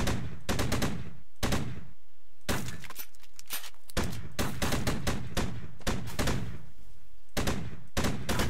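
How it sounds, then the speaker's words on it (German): Loud bursts of automatic gunfire in the shooter game Warmonger, several rapid volleys separated by short pauses, close and harsh. "Da schießen wir sie mal alle über den Haufen"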